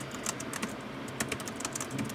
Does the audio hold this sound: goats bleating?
no